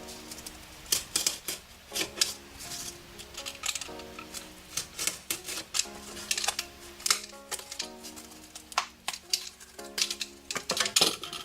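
Scissors snip and crunch through cardboard at close range for a DIY Polynesian arrow, the irregular cuts and rustles coming in bursts over a faint tonal hum, no voice heard.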